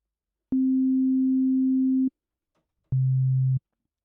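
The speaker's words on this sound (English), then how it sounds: "Let's go with the sine wave for now." Two pure electronic sine tones, one steady held note about a second and a half long, then a shorter, lower note after a brief silence.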